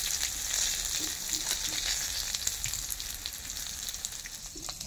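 Ridge gourd leaf fritters frying in hot oil, giving a steady, close sizzle with crackling pops throughout, no talk over it.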